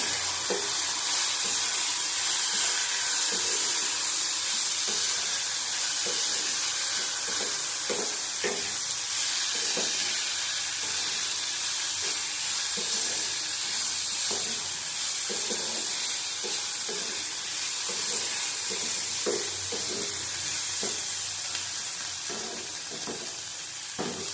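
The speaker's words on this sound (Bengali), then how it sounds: "নুন দিলাম, ভালো করে ভেজে নেব।" Food seasoned with turmeric and salt fries in a pan, a loud hissing sizzle throughout broken by regular scraping ticks of stirring, with no speech.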